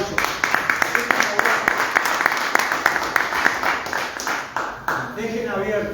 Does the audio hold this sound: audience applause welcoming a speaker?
yes